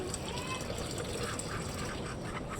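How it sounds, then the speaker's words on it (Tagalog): Water is poured onto dry animal feed in a continuous, steady splashing trickle lasting a couple of seconds, moderately loud and close. "So, lalagyan ko na ngayon ito ng tubig guys."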